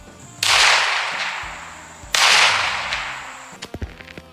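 A Ruger Mk .22 LR pistol fires CCI Mini-Mag rounds: two sharp, loud cracks about two seconds apart, each with a short fading ring, followed by a few faint clicks.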